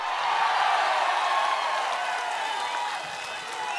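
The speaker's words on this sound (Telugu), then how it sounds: "సిద్ధమైతే గట్టిగా చప్పట్లు కొట్టండి." A large crowd at an outdoor political rally in Tadikonda claps loudly and steadily in a sustained wash of applause that eases slightly toward the end.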